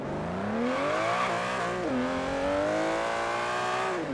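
An Aston Martin Vantage GT12 engine in Forza Horizon 3 drones and revs steadily, its pitch rising, dipping briefly, then climbing again in a continuous, close, synthetic-sounding roar.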